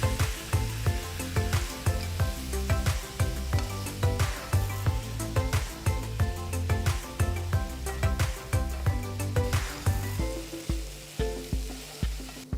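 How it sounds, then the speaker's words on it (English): Marinated paneer pieces frying in an oiled pan over a high flame give a continuous loud sizzle, broken by repeated scraping and stirring knocks, with no talking. "Now add the marinated paneer pieces. Cook the paneer for about 5 minutes on high flame."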